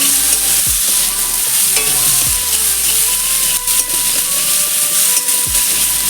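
Shrimp frying lightly in oil in a kadai, a steady broadband sizzle running throughout with a few soft stirring scrapes and low thumps, close and fairly loud.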